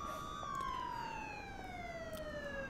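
Police car siren from the video game Mafia 2, a wailing tone sliding slowly downward, fairly quiet and heard alone without talk.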